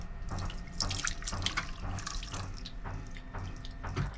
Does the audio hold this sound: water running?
yes